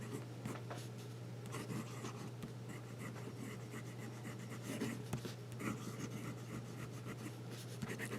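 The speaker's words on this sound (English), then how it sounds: "That is some juicy writing." Jinhao 159 fountain pen with a wet nib writing on paper, a soft continuous scratchy rustle of strokes, close and quiet over a low steady hum.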